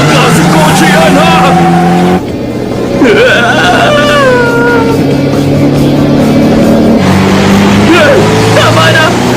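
A Toyota AE86 races hard with heavy body roll, its engine revving loudly with rising and falling pitch shifts and a brief dip, while people talk excitedly over it.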